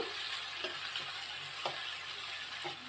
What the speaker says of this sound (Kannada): ಈರುಳ್ಳಿ ಸ್ವಲ್ಪ ಬ್ರೌನ್ ಕಲರ್ ಬರುವವರೆಗೂ ನಾವು ಗೋಲ್ಡನ್ ಬ್ರೌನ್ ಕಲರ್ ಬರುವವರೆಗೂ ಫ್ರೈ ಮಾಡ್ಕೋಬೇಕು